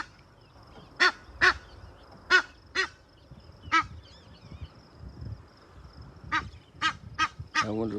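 A goose with thread tangled around its legs honks repeatedly outdoors, sharp loud calls in short bursts with pauses between, fairly close, over a quiet background.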